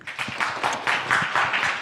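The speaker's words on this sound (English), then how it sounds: "I think we should clap." Audience applause at the end of a panel on art education: steady, moderate clapping from a room of people, sustained for a couple of seconds without talk.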